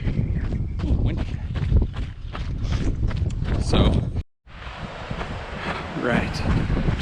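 Strong wind buffets the microphone on a hiking trail near a helicopter landing pad, a loud, continuous low rumble that drops out briefly midway before resuming, with a short spoken word at the start.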